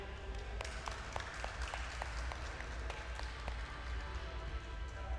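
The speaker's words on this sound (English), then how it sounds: "can we give our team a round of applause" An audience at a live glass-making demonstration in a hot shop applauds with scattered, fairly quiet individual claps over a steady low background rumble, the clapping thinning out toward the end.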